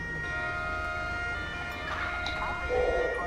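Ambulance siren in an Italian police video game, a steady wailing tone running through the whole short stretch at moderate level with some game background noise.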